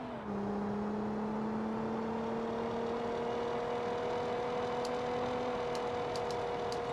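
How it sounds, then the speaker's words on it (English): In BeamNG.drive's banger race, a car engine holds a steady mid-pitched drone at near-constant revs, continuous and fairly loud, with a few faint clicks toward the end. "Engine sounds well good."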